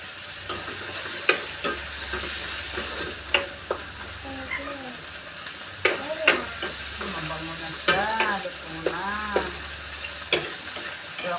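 Tomatoes sautéing in a home kitchen pan, a steady sizzle with sharp clinks and scrapes of a utensil stirring, while someone talks and a voice chimes in.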